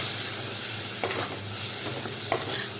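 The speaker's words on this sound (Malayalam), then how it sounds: "കുറച്ച് കറിവേപ്പിലയും തക്കാളിയും ചേർത്ത് നന്നായിട്ടൊന്ന് വെളിച്ചെണ്ണയിൽ വഴറ്റിയെടുത്ത്" Tomatoes and curry leaves sauté in hot coconut oil, giving a steady close sizzle with a few soft stirring scrapes mixed in, no voices.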